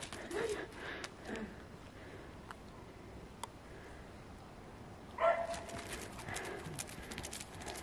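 A border collie and a German shepherd run back with quick pattering paw steps, quiet and somewhat distant, with a louder scuffle partway through.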